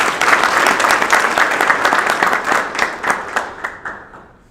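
A graduation crowd at a Pitt County ceremony breaks into loud, close applause, dense clapping that holds for a few seconds and then tapers off to silence.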